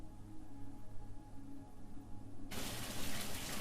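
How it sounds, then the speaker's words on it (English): Water pours through a river sluice at a gauging station on the River Gipping. A low rumble with a faint hum gives way abruptly to a loud, steady broadband rush of water that continues to the end, with no voices. "here's the sluice and gauging station"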